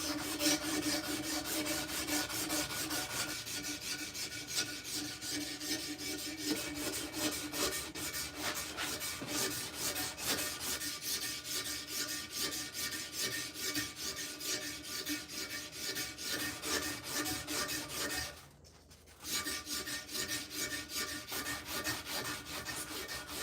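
A knife blade is hand sanded after heat treatment to refine scratches, producing a continuous close rhythmic rubbing and rasping with a brief pause near the end and no voices.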